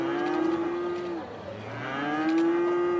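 Cows in the city-building game Cities: Skylines moo in long, drawn-out calls, two clear lowing moos separated by a short dip, fairly close and alone without talk.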